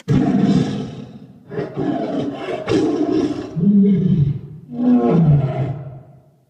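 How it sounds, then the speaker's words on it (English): A loud Bengal tiger roar used as a lion roar stage sound effect at a Narnia theatre attraction, made of several powerful, close, rumbling roar phrases with short gaps and no talk. "Second roar, as a point of interest, isn't actually a lion, it's a Bengal tiger because it sounded better."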